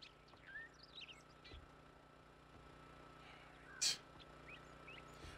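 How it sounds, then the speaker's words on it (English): Birds chirping on a rooftop in the survival game 7 Days to Die, faint scattered tweets over a low ambient hum, with one brighter sharp call partway through and no talking. "I just worry about the freaking birds."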